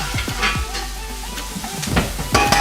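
Mushrooms sautéing in oil in a pan, a close sizzle broken by scraping stirs and utensil knocks against the pan, fairly loud and busy.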